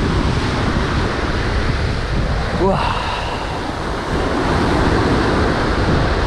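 Ocean surf breaks and rushes continuously on a shore in the remote Philippines, loud and close with wind buffeting the microphone, and a voice briefly exclaims once.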